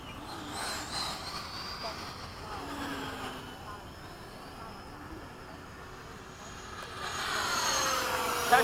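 An FMS 80mm Hawk RC model jet doing a touch and go at an airfield, its turbine whine distant and thin before swelling louder toward the end, with people talking over it.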